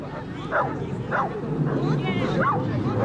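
A dog gives several short yips and bow-wow barks at a water rescue exercise, loud and close, with people talking and crowd babble underneath.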